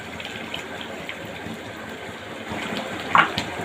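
Water pours into a mustard fish curry made with silver carp in a rushing, gushing stream. The pour is close and swells louder toward the end, with no talking.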